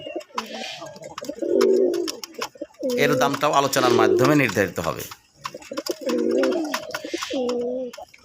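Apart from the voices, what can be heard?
male pigeon cooing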